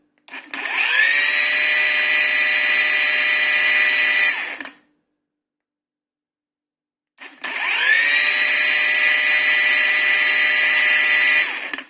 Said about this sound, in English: the angle grinder starts with this really strange interruption in the rotation